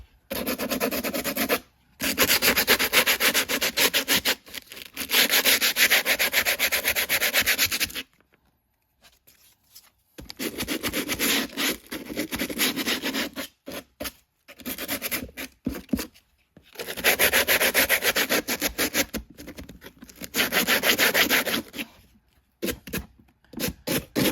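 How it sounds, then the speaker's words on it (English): Sandpaper rubs back and forth on a tiny Star Wars miniature model part, a close, steady scratchy grinding in long bursts with short pauses between, no talking. "See that's what I sanded off with my sandpaper"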